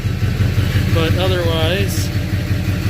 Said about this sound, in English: Oh, that's got some exhaust leak in there.